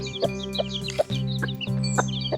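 A hen clucks repeatedly while trying to feed her two-month-old chicks, giving close, rhythmic short clucks over a steady low murmur, with faint chick peeps above.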